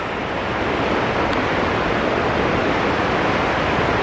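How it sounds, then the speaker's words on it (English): A waterfall beside a trail gives off a steady, broad rush of water, loud and continuous with no pauses, in the cold early morning. "But probably hear the waterfall over here to my left."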